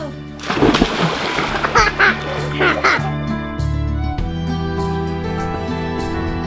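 A person jumps into the water of a natural hot spring, giving a loud splash and splatter burst followed by lingering water sounds, with people talking and laughing around it.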